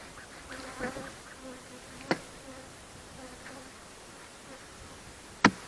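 Honeybees buzzing faintly in the open air while a hive is inspected and comb is checked in the frames and feeders, a soft steady drone with a few sharp knocks.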